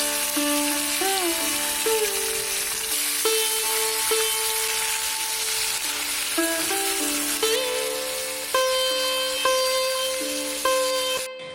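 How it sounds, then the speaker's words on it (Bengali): Fish fries in a pan at home, a steady bright sizzle running throughout under a stepping melodic tune. "ওইদিকে মাছ ভাজা হোক"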